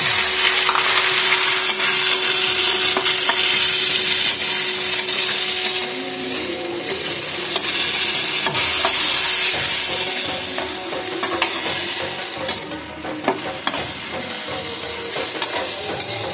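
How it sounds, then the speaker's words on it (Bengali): Tomatoes cook in browned onion and hot oil for a Bengali chicken kosha, giving a steady loud sizzle with scraping stirs throughout, heard close up with no talking. "পেঁয়াজের মধ্যে আর তেলের মধ্যে আমি টমেটোকে ভালো করে কষিয়ে নেব।"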